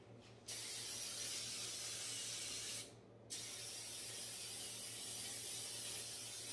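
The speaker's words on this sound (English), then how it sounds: "And as you can see, I'm just spraying in." Steady baking spray hissing close by in two long bursts into a rubber cake pan, with a short pause between them and a low hum underneath.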